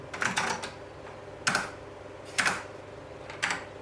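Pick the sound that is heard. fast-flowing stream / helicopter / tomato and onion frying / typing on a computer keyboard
typing on a computer keyboard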